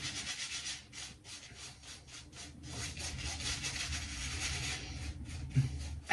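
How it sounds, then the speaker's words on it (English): A shaving brush works soap lather on a face in quick repeated strokes, producing a steady, close, brushy rubbing rhythm with no talking. "Do a little face lather here."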